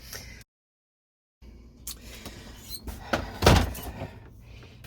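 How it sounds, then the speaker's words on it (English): Folding doors of an RV shower and bathroom compartment swing open, giving a series of clattering knocks and a louder thud near the end, close up with no talking. "these doors fold out to make a little shower and bathroom compartment"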